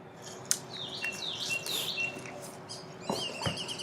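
A wild bird chirps outdoors in a few short, high tweets, some close and some farther off, over a steady hiss of background ambience with no talking.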